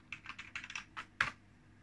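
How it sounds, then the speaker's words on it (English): Typing on a computer keyboard running Loongnix on a Loongson 3A3000 machine: a short burst of close, crisp key clicks in quick uneven clusters, ending with one sharper, louder press. "Let me type the password first."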